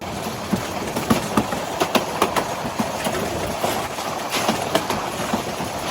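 Train running along rails on a journey toward Mohanganj, heard from inside an air-conditioned coach: steady rumble with repeated clickety-clack wheel beats at an uneven rhythm, continuous and fairly loud, with no voices.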